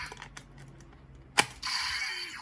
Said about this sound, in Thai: เมื่อเสียบลงไปก็จะมีเสียงหนังสือ เสียบลงไปด้วยทีนึงนะครับผม